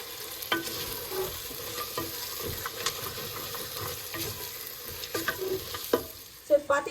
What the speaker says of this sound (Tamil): மட்டன் போட்டு சும்மா ஒரு 5 மினிட்ஸ் கூட இருக்காது, ஒரு 2-3 மினிட்ஸ் வதங்கியிருக்கு